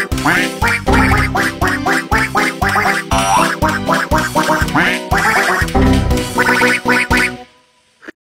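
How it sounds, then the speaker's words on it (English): A duck quacks loudly in a rapid run of repeated calls that carries on for several seconds and then cuts off into near silence. "Quack, quack, quack."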